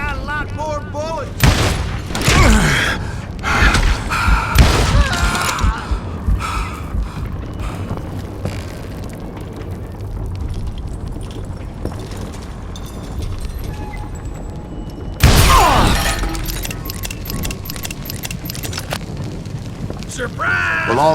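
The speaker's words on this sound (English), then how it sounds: "All it takes is one tiny spark, and boom." Gunfire and a dynamite explosion in the Western shooter Call of Juarez: Gunslinger: loud, dense volleys of shots, then a heavy booming blast, with a voice speaking over parts of it.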